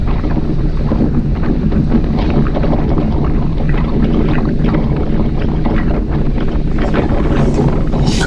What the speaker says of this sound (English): The wind is out here.